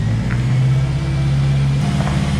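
Tuned Honda car from a £20,000 build cruising along the street, a steady close engine drone with a constant low hum and road noise, no voices.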